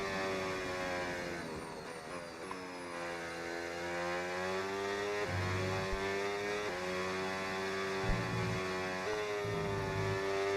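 A Formula 1 car engine in the F1 26 racing game, on a 2026-season Porsche, revving steadily and loudly through rising and falling gear pitches with brief shifts, close up and alone.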